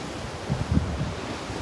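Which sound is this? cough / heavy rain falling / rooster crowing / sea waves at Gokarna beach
sea waves at Gokarna beach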